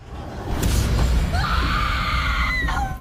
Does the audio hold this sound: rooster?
no